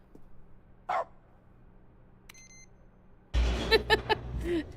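A dog in The Stanley Parable gives a single short bark, followed later by a brief electronic beep and then a louder burst of yips and barks near the end.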